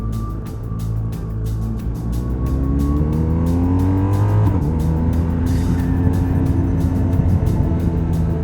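A car downshifts into a corner on the L504 road near Kaiserslautern, its engine note climbing and falling through the gear change under steady close road and wind noise, with no talk.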